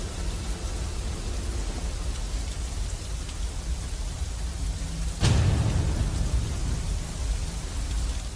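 Steady heavy rain falls throughout, with a sudden loud thunder crack about two-thirds of the way in, followed by rumbling under the continuing downpour.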